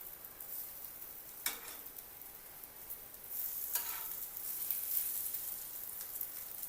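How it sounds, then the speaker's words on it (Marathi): Raw banana slices fry in a pan of oil over low gas, a steady soft sizzle with a couple of brief louder crackles, quiet and without talk. "केळीचे काप टाकायचे बघा। गॅस कमी करायचा, चांगले भाजू द्यायचे।"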